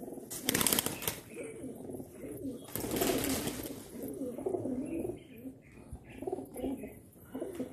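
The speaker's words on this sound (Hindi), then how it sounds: "देख सकते हैं आप लाजवाब कबूतर हैं माशाल्लाह" High-flyer pigeons coo softly and repeatedly close by, with a few bursts of fluttering wings and someone talking over them.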